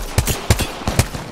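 Gunfire in Apex Legends: several sharp shots spaced irregularly, each a brief loud crack over a steady game background, no talk.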